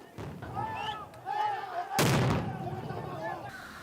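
A sudden loud dynamite blast at a protest about halfway through, with its broad rumble lingering, while voices talk before and after it.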